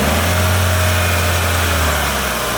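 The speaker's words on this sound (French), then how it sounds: "donc là tu peux accélérer" A car engine drones loud and steady at close range, holding a fairly even pitch with little sign of rising revs, with no voices over it.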